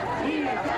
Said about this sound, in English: you see that big crowd still here on Calle Ocho demanding a free Cuba